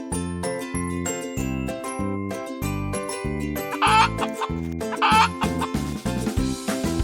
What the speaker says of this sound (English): Oh, look, it's the chicken.